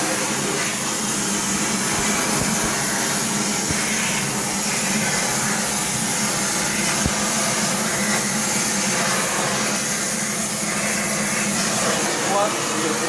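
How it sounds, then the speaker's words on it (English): A torch burning with a reducing flame heats a crucible for melting scrap sterling silver, a steady broadband roaring hiss that holds close and loud throughout, with a person talking over it. "Good reducing flame. Plenty of heat. Heat the crucible up first."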